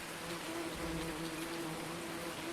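Bees buzzing around hive boxes on a rainy day in Farming Simulator 19, a continuous low drone with a soft rain hiss behind it and no talking.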